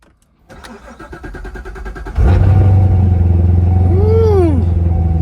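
A manual Corvette engine cranks with a rapid starter chatter for a couple of seconds, then catches and fires into a loud, steady idle with a brief rising rev, close by and with no talking.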